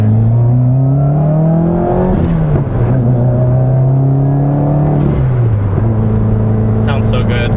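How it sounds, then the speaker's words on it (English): Tuned 9th gen Civic Si and 2016 WRX revving hard, engine tone climbing through gears with dips at each upshift and pops and burble between, loud and close with voices talking over it. "when you upshift, you get the upshift pops and the burble"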